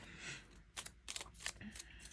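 Small paper cards shuffled by hand for a cash-stuffing savings game, a close, quiet run of soft riffling bursts and flicks with no talking.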